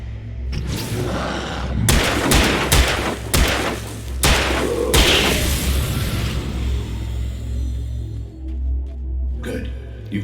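Gunfire from a gun in the video game Alan Wake Remastered: a string of loud, sharp shots and booming impacts over a low rumbling background, followed by a quieter tail.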